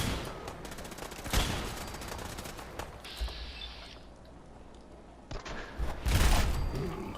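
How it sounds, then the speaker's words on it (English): Gunfire with exploding bullets in the video game Fallout 4, bursts of rapid shots and sharp booms with quieter gaps between them, loud and close. "With that one, they have exploding bullets, so they have chances of actually getting hurt with that one."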